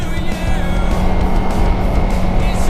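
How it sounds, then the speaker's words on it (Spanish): A Kawasaki Versys X 300 motorcycle engine drones steadily while riding, a loud, close, continuous buzzing hum mixed with rushing wind. "el motor se siente muy rabioso, como que va ahí con todo"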